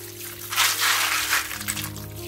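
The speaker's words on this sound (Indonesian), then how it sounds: "Cuci di air mengalir." Field snails are rinsed under running tap water in a kitchen, a steady splashing rush that swells for about a second, then settles to a lighter trickle, with a faint hum underneath.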